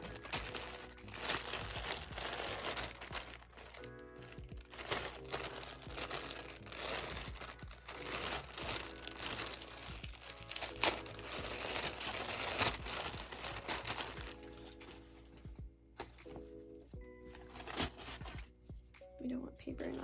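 Paper crinkles and rustles in bursts as it is pulled out of a new Starbucks work hat, close and fairly loud, with a voice talking over parts of it.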